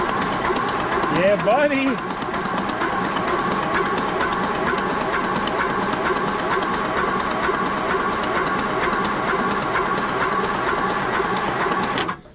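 Old Ford Thunderbird engine, abandoned and sitting for decades, cranked over by the starter with a steady, even mechanical churning and clatter that runs loud for about ten seconds and then cuts off; a man exclaims briefly near the start.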